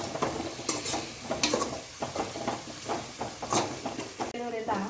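Fenugreek leaves fry in oil in a pan, making a bright continuous sizzle with scraping stirs and occasional clinks of a utensil, heard up close while a person talks over it.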